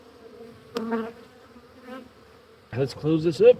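Bees buzzing around an opened hive during a late-season inspection, a faint droning hum under a person's nearby speech, with louder bursts as the beekeeper talks.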